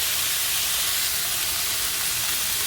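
Meat browning in a frying pan for a stroganoff-style dish, heard as a steady, close, fairly loud hiss of sizzling fat that holds evenly throughout, with no talk.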